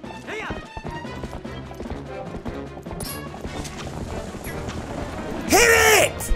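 A horse in Zelda: Twilight Princess HD gallops with steady clip-clop hoofbeats under game music and a talking player, then a loud neighing whinny bursts out near the end.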